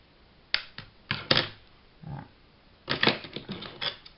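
Small snips of scissors cutting a bit of pink decoupage paper: a few sharp, close clicks in quick clusters, separated by short quiet pauses.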